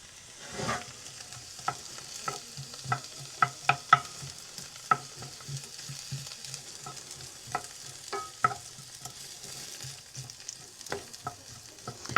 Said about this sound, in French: Et on met à cuire les petits oignons.